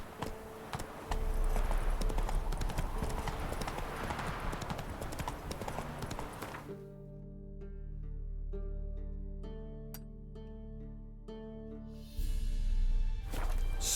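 Roach the horse galloping in The Witcher 3, loud rhythmic clip-clop hoofbeats for several seconds, then slowing to a quieter ambient stretch with tonal music before the hooves pick up again near the end.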